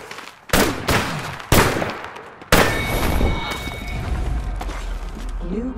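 Apex Legends gunfire: three loud, sharp shots about a second apart, then a denser burst of weapon fire with ringing mechanical tails and game ambience.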